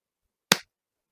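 A single sharp hand clap, close and loud, standing alone with silence before and after.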